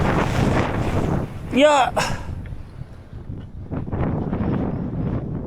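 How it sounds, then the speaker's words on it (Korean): Strong gusty wind roars and buffets the microphone during a bicycle ride on Jeju Island in gale conditions, rising and falling in waves throughout, while a man gives one short shout. "야, 이 똥바람 진짜 미친 듯이 부네."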